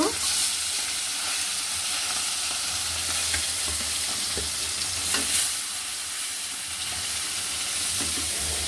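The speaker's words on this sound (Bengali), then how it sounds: "ভাজা হয়ে গেছে, এবার তুলে নিব। এবার বাকিগুলো দিয়ে দিব।" Sarpunti fish fry in hot oil with a loud, close, unbroken sizzle and hiss. Occasional spatters and stirring clinks break through the steady frying.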